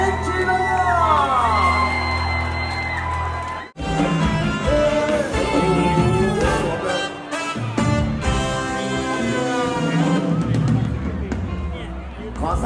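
A live crowd at a charity concert by 1990s Thai singers and artists cheers and whoops loudly and continuously for a performer, with shouting and babble throughout and a brief dip partway.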